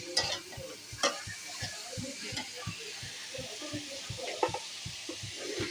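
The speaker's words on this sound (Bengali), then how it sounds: "সব শাপলাগুলোকে দিয়ে একসাথে কষিয়ে নেব।" Water lily stems are stirred with spices in a hot pan, giving a soft sizzle under a steady run of regular spatula scrapes and taps, heard up close with no talking.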